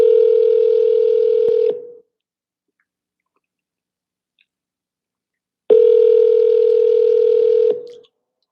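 Steady telephone dial tone sounds loudly for about two seconds, breaks into silence, then returns for another two-second stretch before a call connects; no voices.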